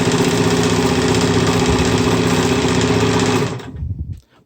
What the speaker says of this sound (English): Then I'm going to release the R lever and let it sew forward again.